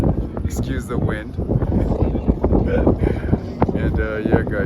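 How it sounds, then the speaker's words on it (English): Strong wind buffets the microphone on a ferry in Amsterdam, a steady low rumble with gusts, while a voice speaks underneath. "It's kind of windy on the ferry, so excuse the wind."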